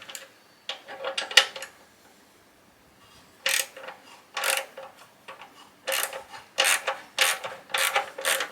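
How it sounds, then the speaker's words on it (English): Autosol polish is rubbed by hand onto the titanium exhaust pipes and silencer box of a Honda CB1000R motorcycle, making close, short rasping strokes in bursts with brief pauses between them. "I'm just going to give all the pipes and the box a little clean with some auto sol"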